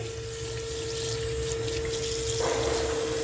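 Running tap water pours steadily into a sink as flowers and leaves are rinsed, close and continuous with a faint steady hum beneath, growing slightly louder near the end.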